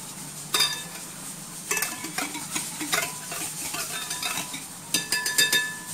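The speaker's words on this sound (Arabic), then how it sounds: "خلط مليح." Bread dough of flour, milk and sugar being stirred in a bowl with a spoon, giving a few sharp clinks and scraping taps in short irregular bursts, close by and fairly quiet.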